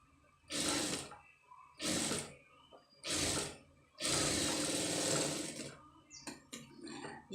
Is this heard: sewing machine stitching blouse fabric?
yes